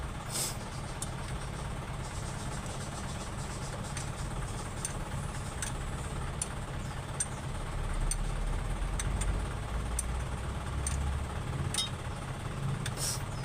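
An Isuzu 4BA1 engine runs at a mechanic's shop in Dasmariñas, Cavite, giving a steady, fairly quiet low rumble with faint regular ticking that holds even throughout, with no talk.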